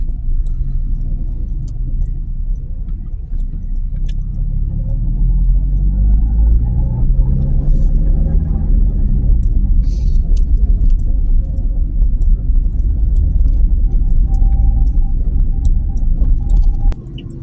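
A jeepney's engine rumbles low and steady while driving along city roads in Quezon City, growing louder partway through, with faint jangling and no voices.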